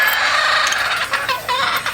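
Gamecocks (battle stags) on a game farm in Batangas, with several birds clucking and giving short crowing calls close by over a steady hiss of farm ambience.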